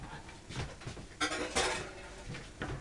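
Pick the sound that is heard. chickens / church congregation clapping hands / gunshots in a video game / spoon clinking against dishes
spoon clinking against dishes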